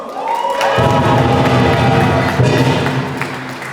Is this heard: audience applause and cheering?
yes